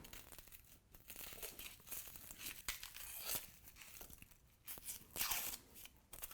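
Onion skin being peeled by hand, giving a run of dry tearing and crinkling rustles in uneven bursts, close and fairly quiet, with no talking.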